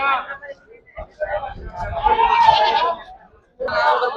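A male goat at a livestock market bleats in short wavering cries amid close talk and crowd noise, the calls rising and falling in brief bursts.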